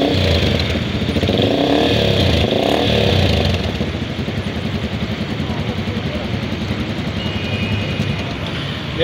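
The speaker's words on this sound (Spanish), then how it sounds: "fíjate cómo queda la motocicleta. Vamos a escucharla cómo suena." A new Vera GR250 motorcycle engine runs steadily at close range, its low rumbling idle holding even throughout with a faint mechanical whine on top.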